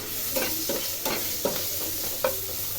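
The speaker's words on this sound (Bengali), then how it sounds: "উস্তা ভাজি করতেছিলাম।" Sliced bitter gourd fries in a pan with a constant close sizzle, broken by about five scraping strokes of a spatula stirring the pieces.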